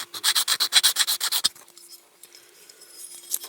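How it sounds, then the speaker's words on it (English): Rapid rhythmic rasping strokes of a metal file working a splayed rivet on a Corgi Toys Ford Consul Cortina Super Estate die-cast toy car, about a dozen close, even strokes, then quieter scraping and faint handling. "What I am going to do first is just file this rivet around a bit."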